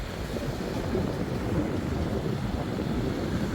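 Steady wind buffets the microphone outdoors on a fishing trip in Qatar, a loud, continuous rumbling roar with no voices.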